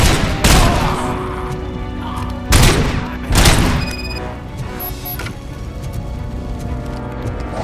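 Gunfire in the Robocop video game: a few loud, booming shots with long decaying tails, then a steady mechanical hum and faint electronic tones, with no talk.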